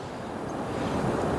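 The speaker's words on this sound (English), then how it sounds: "washing out here at St Lucia Estuary mouth as we walk past." Waves wash out at the St Lucia Estuary mouth, a steady, rushing surf wash that swells slightly louder toward the end, mixed with some wind buffeting on the microphone and no voices.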